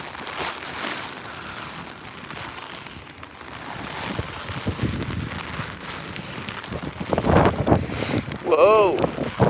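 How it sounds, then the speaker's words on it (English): Strong gusty wind in a heavy rainstorm in New York City, roaring and buffeting the microphone steadily throughout, building louder toward the end, with a brief whistling sound near the close. "You just listen to the wind blow"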